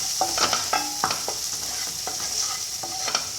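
Spices crackling and sizzling in hot oil in a pan for dal tadka, a steady close sizzle with light stirring taps and scrapes throughout, no voices.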